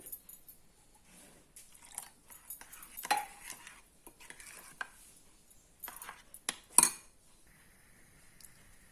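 Salt being stirred into a curd batter in a bowl for curd bajji, heard as scattered light clinks and scrapes of a spoon against the bowl, close and intermittent, with a sharper clatter near the end.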